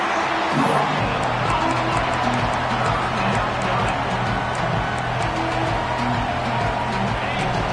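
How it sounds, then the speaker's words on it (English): A dense, steady roar of a large football crowd fills the whole stretch, loud and continuous in a packed stadium during Arizona State vs Oklahoma, with no pauses. "listen to this crowd noise. This stadium is vibrating"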